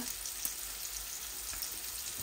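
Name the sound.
cumin and bay leaves sizzling in oil for fish curry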